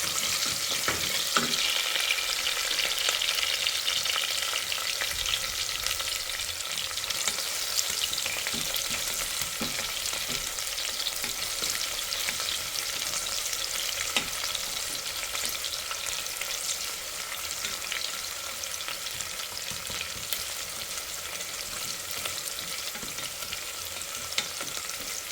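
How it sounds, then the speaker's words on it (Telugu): Sliced onions for radish sambar fry in a pan, a dense, continuous close sizzle holding steady and loud throughout, with occasional faint stirring scrapes and no voices. "ఆనియన్ అయితే వేగిపోయాయి."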